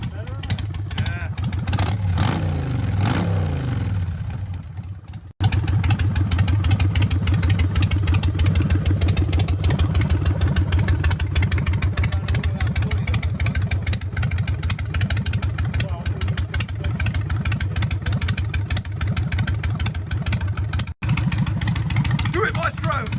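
A Harley-Davidson Sportster Iron 883 with an S&S 1200 conversion and Mikuni HSR42 carburetor idles loudly and up close with a lumpy, steady throb, a brief rev early on, and people talking over it.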